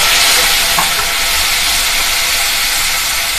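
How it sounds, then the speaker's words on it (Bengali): Masala spices sizzle and hiss in a hot pan with a splash of water while being stirred, a loud continuous frying crackle with faint scraping underneath. "মশলাটাকে ভালোভাবে কষিয়ে নেব।"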